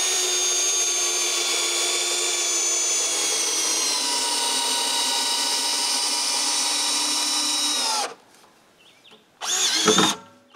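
Power drill driving a screw into a wooden dock post at a lakeside chalet, a steady whining motor running loud and close for about eight seconds before stopping, followed by a brief second burst.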